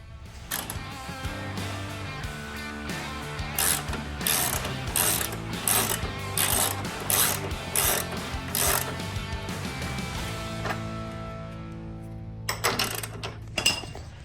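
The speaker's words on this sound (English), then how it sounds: "We just gotta jack the frame up and slide them in." A jack is worked under a custom golf cart frame in a shop, giving a run of loud, close ratcheting clicks in rhythmic bursts with short pauses between them.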